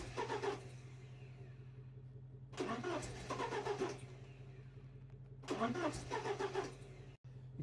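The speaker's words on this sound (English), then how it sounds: "it only wants to start on the first couple of clicks of the starter motor" A Porsche 944 engine cranking on its starter motor in three separate bursts of whirring, each a second or so long with pauses between, close and loud over a steady low hum, without firing up.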